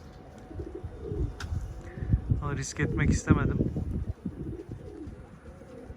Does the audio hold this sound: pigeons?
yes